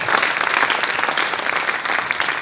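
A crowd at a wealth and property expo claps for itself, a loud, even, continuous burst of many hands with no break from start to finish.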